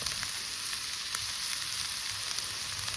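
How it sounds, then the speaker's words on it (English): Bacon sizzles steadily on a hot slab at a campsite, a constant bright frying hiss with small pops and crackles scattered throughout, close and fairly quiet, with nobody talking. "Put the old slab on, cook some bacon."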